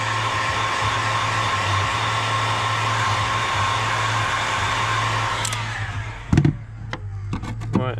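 A heat gun blows a steady, loud airy whoosh over BMW E36 328i coupe bodywork, then cuts off and leaves a few faint clicks and knocks.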